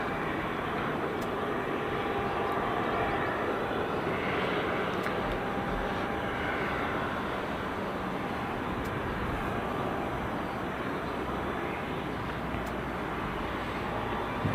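Passenger airplane backtracking along the runway at Southend Airport on the day a new Amsterdam route launched: a steady, broad engine roar heard from a distance, constant and unbroken with some wind noise.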